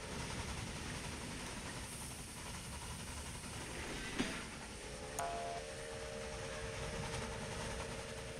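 A train running on a line in the video game Railway Empire Japan: steady low rumble of rolling stock with a faint horn-like tone and a couple of brief clanks, no talk.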